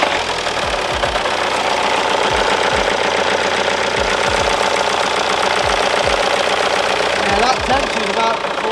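A VW Golf R32 V6 engine running steadily with its cam belt riding off the tensioner, a loud, busy mechanical whir with a repeated light ticking, close by.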